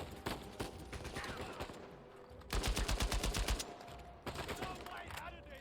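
Gunfire in Uncharted 4: A Thief's End on PS5: dense automatic bursts with rapid, evenly pulsed shots in the middle, mixed with game music and effects.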